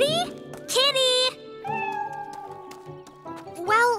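A cat meows repeatedly in rising, drawn-out cries, close and loud, with short pauses between calls.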